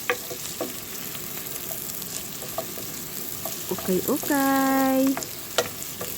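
Chicken browning in a pan gives a continuous, close sizzle with occasional stirring clatter. A brief whining squeal rises partway through, and a voice says a single short word.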